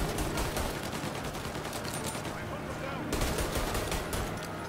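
Rapid gunfire from Mafia Definitive Edition rings out in dense, continuous bursts during a car chase shootout, loud and close, with a vehicle's engine roaring underneath and a brief lull near the middle.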